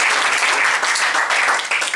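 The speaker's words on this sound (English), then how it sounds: "Let's have a round of applause for all the comics we've seen so far." Audience applause for stand-up comedians at a comedy show, a dense continuous wash of clapping from a crowd, steady and fairly loud throughout with no voices over it.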